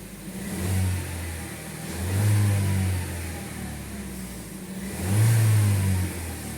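A Peugeot 3008 with a 1.6 EP6 petrol engine revs in three rising bursts between steady running, its low engine drone swelling and easing back, recorded up close with no talking.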